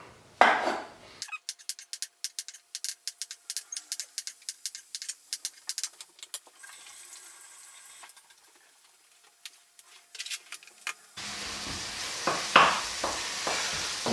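Bacon sizzles and crackles in a pan with bursts of spitting fat, broken by quieter stretches and a few utensil scrapes, fairly faint and close, with no talking.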